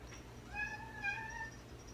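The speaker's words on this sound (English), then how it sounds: "The cat's coming." A house cat meows softly a couple of times, faint and alone over a low indoor hum.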